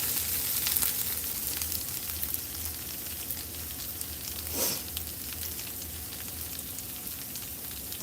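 Onions frying in a pan with a hot lid-trapped heat, a continuous close sizzle with crackly spatter that stays steady, with a slight surge midway.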